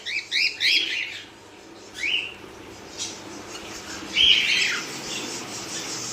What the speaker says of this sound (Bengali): এখানে এক পেয়ার কনুর আছে, ডবল রেড ফ্যাক্টরের মধ্যে কনুর আছে এক পেয়ার, পাইনাপেল।